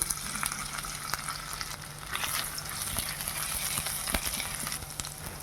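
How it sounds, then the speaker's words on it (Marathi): Garlic and ginger sizzling steadily in hot oil in a pan for a soya chunks curry, a constant crackling fry with small pops, close and moderately loud, no talking. "तेल तापलेलं आहे. त्याच्यामध्ये आता आपण लसूण टाकून घेऊया."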